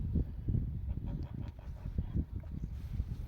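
Domestic geese gather eagerly by a small homemade pond being filled with water, honking and cackling in a busy, overlapping flock close by with no talk.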